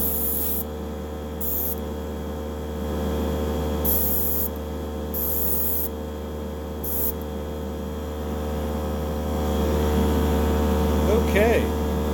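Airbrush with the needle opened up spraying a wet coat of paint onto the underside of a Matchbox Chevrolet Impala: several short hissing bursts up close, then quieter spraying, over a constant background hum.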